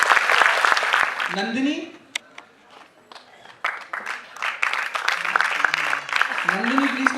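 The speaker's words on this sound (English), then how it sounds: "Please give him a big round of applause." Audience at a temple event applauding, bursts of clapping near and lively that dip briefly into quiet before resuming, with voices speaking and calling out over it.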